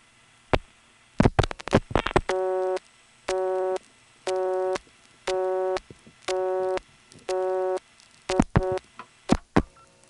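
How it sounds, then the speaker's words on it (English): Busy signal from a small rural telephone office in Commerce, Georgia: a steady run of evenly spaced buzzing tone bursts, clear and loud on the line, bracketed by clicks and switching pops before and after. "in this office will dump us to a busy signal"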